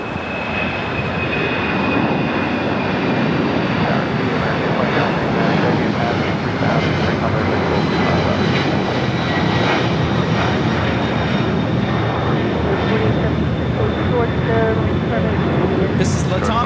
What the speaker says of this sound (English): This is Latam Airlines 2479 taking off to Lima, Peru on the 767-300ER.